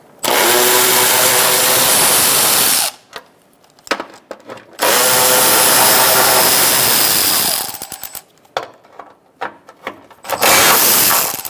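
A 10mm socket undoes bolts on the radiator of a 2012–2017 Hyundai Accent. Loud, close mechanical whirring comes in two long runs of about three seconds each, separated by brief clicks and rattles, then ends in a short final burst.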